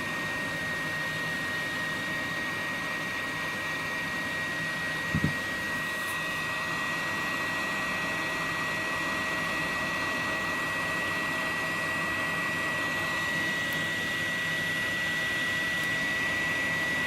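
A heat gun blows a steady, even whirring hiss for a long stretch while shrinking heat shrink tubing on a caravan LED light, with a faint tap partway through.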